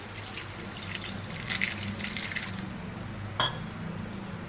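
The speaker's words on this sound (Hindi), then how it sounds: "अब बर्फ में हम थोड़ा सा पानी डाल लेंगे।" Water pours in a steady, gentle trickle over ice, with a single sharp clink of ice near the end.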